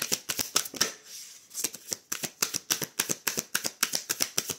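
A deck of tarot cards is riffled close by in a rapid, even run of crisp flapping bursts, briefly pausing before continuing.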